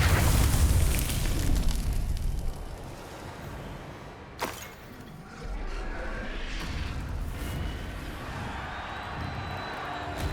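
Fiery Confringo spell blasts in Hogwarts Legacy, a dense roaring burst with heavy low rumble, a sharp crack midway and continued crackling fire and combat noise through the rest.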